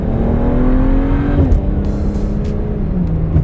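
A car engine pulls at quarter throttle while exiting, a loud steady drone close by, the pitch dipping as it shifts and then holding, with brief clicks on top.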